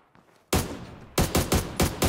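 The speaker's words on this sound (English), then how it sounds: "we're getting shot from the other side" Video game gunfire at a quarry in a warmode match: a loud sustained burst of shots, then a brief pause, then five sharp, evenly spaced heavy shots close by, with no talk.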